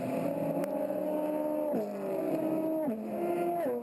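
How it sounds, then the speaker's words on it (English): Acura-powered Grand Touring 3 race cars scream at high revs at the SCCA Runoffs at Daytona International Speedway, each upshift dropping the pitch before it climbs again, loud and sustained. "you can hear the RPM of the engine. They're screaming."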